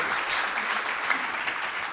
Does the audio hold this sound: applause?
yes